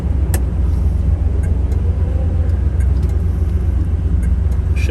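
A 1969 Chevrolet Camaro engine with a 5-speed Tremec gearbox rumbles steadily from inside the cabin while driving, a deep constant drone with road noise, no talking.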